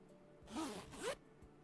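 A zipper being zipped up in a dating sim video game, heard as two quick, clean rasping pulls back to back, close and isolated against a quiet background.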